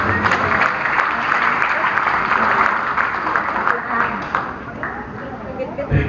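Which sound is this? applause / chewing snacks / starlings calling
applause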